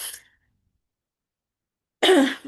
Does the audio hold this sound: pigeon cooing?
no